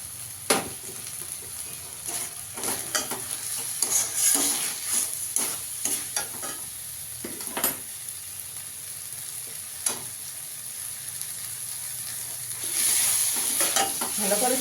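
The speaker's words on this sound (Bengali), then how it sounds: "চালটা দিয়ে একটু সঙ্গে মশলার সঙ্গে কষিয়ে নেবো ভালো করে" Rice with spices is stir-fried in a pan for chicken pulao, a steady close sizzle broken by repeated scraping strokes of a spoon against the pan, with no talking.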